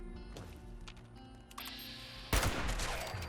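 Gunfire in Fallout 76 from a commando stealth build: quiet game ambience with a few soft shots, then one sharp, loud blast near the end that rings out briefly.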